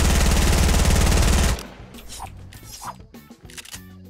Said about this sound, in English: It's an SMG, by the way